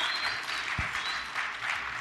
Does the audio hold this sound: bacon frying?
no